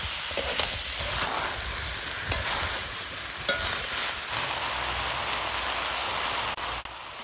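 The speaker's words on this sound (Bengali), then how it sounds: "এবার আলু দেওয়ার পরেও কিছুক্ষণ ভালো করে আবার কষে নিব।" Chicken mince and potatoes are sautéed in a pan with a continuous, rain-like sizzling hiss and a few brief scrapes and knocks from stirring.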